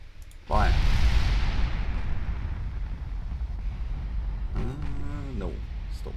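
Naval guns fire in the warship battle game Ultimate Admiral Dreadnoughts: a loud, sudden blast opens into a long, heavy rumble that keeps rolling, and a voice speaks briefly over it at the start and again near the end.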